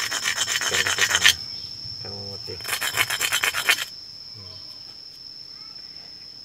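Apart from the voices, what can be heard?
natural stone being rubbed, mortar maker testing stone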